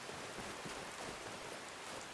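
Steady rain falls in an outdoor glen in the video game Skyrim, a continuous even hiss of drops with no talk over it.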